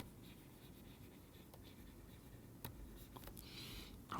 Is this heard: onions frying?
no